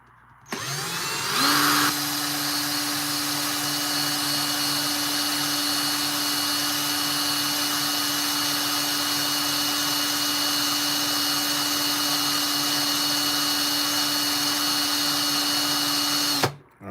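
A ring is worked with 400 grit sandpaper on a powered tool: a high, steady motor whine starts abruptly, runs evenly for about fifteen seconds close by, then cuts off, with no talk.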